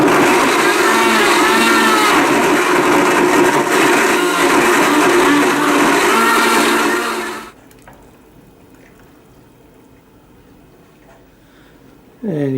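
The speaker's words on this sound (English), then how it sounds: "Blend this on high for 30 seconds" A blender whirs loudly and steadily on high, blending mango, honey and yogurt into a smoothie, running about seven seconds before cutting off abruptly, leaving near silence until a brief sound returns at the end.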